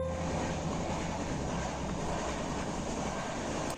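Steady, loud rumble of the Vivek Express rolling along the tracks across Chilika Lake, a continuous dense roar with no pauses throughout.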